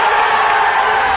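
Football crowd at a Playford City versus Adelaide City match roaring after a late goal, a dense sustained wall of cheering and whoops, loud and continuous throughout.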